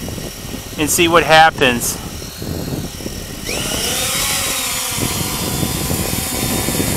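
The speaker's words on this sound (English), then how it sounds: "So I want to let the motors run up a little bit" An UPAir drone's motors spin up after a short stretch of speech, becoming a steady, close, high-pitched whine that rises in pitch and then holds.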